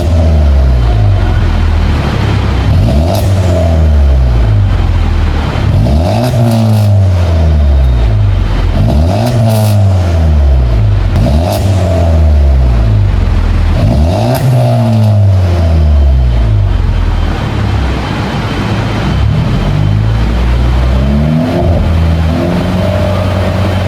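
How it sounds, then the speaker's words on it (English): Volkswagen Polo with an aftermarket exhaust revving hard, loud repeated rises and falls of the engine in a steady rhythm, several blips in a row, close by with no talk. "this car is loud. It has an aftermarket exhaust"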